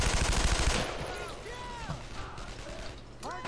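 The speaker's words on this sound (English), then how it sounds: "Suppressing fire." Rapid gunfire from a World War II squad shooter game, a loud sustained burst at first that gives way to a busy battlefield din with mechanical clatter and occasional shots under it.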